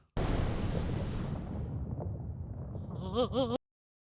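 An artillery shell explodes in the anime Sentenced to be a Hero, a sudden loud, deep blast with a sustained rumbling roar, then a brief warbling tone just before it cuts off abruptly.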